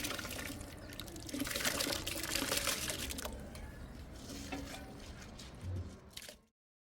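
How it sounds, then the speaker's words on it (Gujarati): Rice being rinsed in water for a village-style cooking session, with continuous sloshing and splashing of water against grains in a pot, steady and close, ending abruptly. "ભાતને બરાબર 2-3 પાણીથી આપણે ધોઈ એકદમ પાણી ચોખ્ખું થઈ જાય ત્યાં સુધી ધોઈ"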